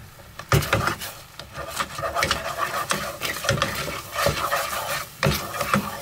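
Caramel made with cream instead of butter, brought to a rolling boil in a pan, bubbling and sizzling with a steady close texture while a spoon stirs and scrapes now and then.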